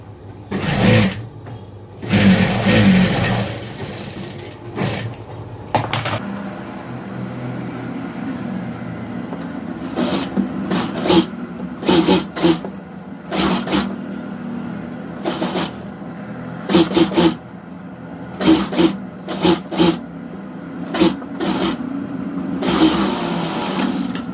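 A sewing machine stitches a plain blouse in short start-stop runs, with rapid mechanical whirring bursts close by between pauses and no talking.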